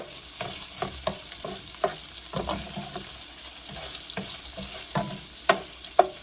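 Sausage frying in oil in a pan for fried cabbage: a steady broadband sizzle runs throughout, with scattered sharper pops and utensil clicks stirring through it, close by and without speech.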